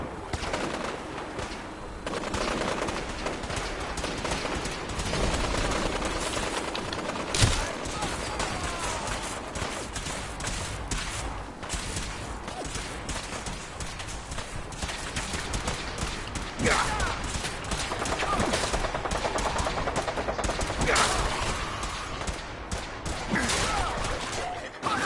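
Gunfire crackles through a Fallout 4 firefight, a dense stream of shots and rattling bursts with one sharper crack standing out, set against chirping birdlike sounds and distant game voices, all fairly quiet.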